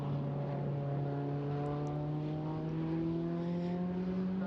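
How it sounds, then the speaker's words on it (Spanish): Ferrari engine on a race car at the Estoril circuit, a steady high-revving drone with strong harmonic lines rising slightly in pitch, loud and continuous with no talk. "Podemos escuchar por nuestros auriculares ese sonido característico Ferrari, motores siempre más revolucionados."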